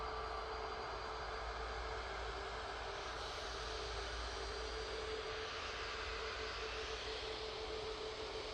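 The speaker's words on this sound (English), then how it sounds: "It's an A321neo." An Airbus A321neo jet airliner bound for Faro gives a steady, broadband engine roar at Manchester Airport, constant and fairly distant throughout with no pauses.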